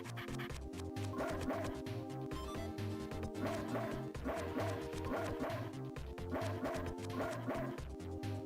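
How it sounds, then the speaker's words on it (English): A dog in the video game Mother 3 barks in repeated quick bursts over looping game music with a steady bass rhythm, the yips recurring every couple of seconds. "All this dog. Bark, bark."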